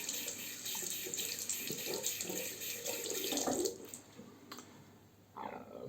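Water runs steadily from a tap as a vintage 1960s Gillette Slim Adjustable safety razor is rinsed beneath it, a close, even rushing stream that breaks off briefly near the end before resuming.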